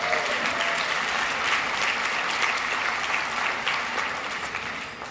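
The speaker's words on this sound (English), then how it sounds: "So give yourselves a round of applause." An audience at a union gathering on education applauds, a dense wash of clapping from many hands that holds steady, then slowly fades near the end.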